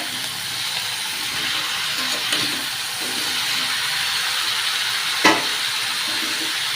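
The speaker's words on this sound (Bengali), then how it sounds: "আজকে কোনো বাটা মশলা দেবো না সব গুঁড়ো মশলা সবজিগুলো একটু ভেজে নেবো" Vegetables (pointed gourd, pumpkin, potato, eggplant, drumstick and jackfruit seeds) frying with powdered spices in a pan give a steady, soft sizzle with a few faint stirring scrapes and one brief clatter.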